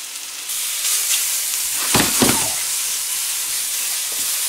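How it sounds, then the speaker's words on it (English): A steady, bright sizzle of mushrooms frying in a hot pan, with a few louder bursts of hissing and crackling near the middle. "In go the mushrooms. You can hear it start to sizzle."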